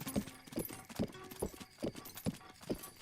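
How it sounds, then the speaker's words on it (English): A horse gallops in Breath of the Wild, its hoofbeats a quick, even clip-clop of about seven strikes, fairly close and unaccompanied by speech. "This is the best horse in the game that is not a named horse."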